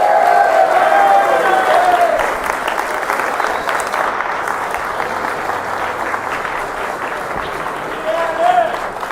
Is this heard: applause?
yes